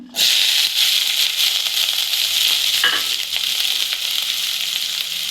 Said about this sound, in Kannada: ಕ್ಯಾಪ್ಸಿಕಮ್ ಫ್ರೈ ಮಾಡ್ಕೊಳಕ್ಕೆ ಕ್ಯಾಪ್ಸಿಕಮ್ ಹಾಕ್ತಾ ಇದ್ದೀನಿ